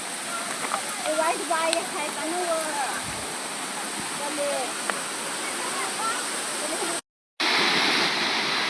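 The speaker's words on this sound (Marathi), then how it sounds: "खूप छान असा धबधब्याचा नजारा आहे" Steady, full roar of a monsoon waterfall at Bhivtas close by, with a voice talking over the rushing water and a brief cut to silence near the end.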